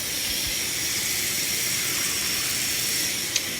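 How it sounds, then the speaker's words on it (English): Frozen shrimp in a pan heating on the stove, giving a steady, loud steamy hiss that holds even from start to finish, with one brief tap near the end and no speech. "since the shrimp is frozen, I'm gonna boil them"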